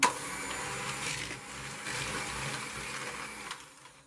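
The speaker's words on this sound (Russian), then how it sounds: "Добавляем 180 грамм сахара и хорошо перетираем миксером пару минут." An electric hand mixer whirs steadily as it creams 200 grams of very soft butter with 180 grams of sugar, a continuous moderate hum with slight fluctuations and no talking.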